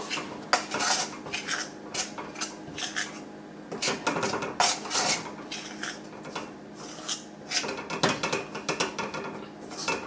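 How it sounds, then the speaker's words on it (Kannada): Rice flour mixture for akki tambittu stirred in a pan at home, with a steady run of rapid metallic scraping and clinking of a spoon against the pan, close and continuous. "ಇಷ್ಟನ್ನು ಹಾಕಿ ಇವಾಗ ಚೆನ್ನಾಗಿ ಮಿಕ್ಸ್ ಮಾಡಿಬಿಡ್ಬೇಕು"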